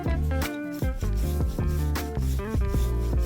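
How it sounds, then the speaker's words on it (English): Mozzarella and Parmesan cheese are shredded on a grater in steady, close back-and-forth rasping strokes, each stroke a loud scrape with a short pause before the next. "we're gonna shred cheese. We're gonna be doing a mixture of mozzarella and Parmesan"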